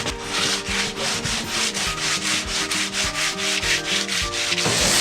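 Hand sanding of a wooden boat hatch, with steady back-and-forth rubbing strokes in a fast, even rhythm. The scraping is loud and close, with a low tonal hum running underneath.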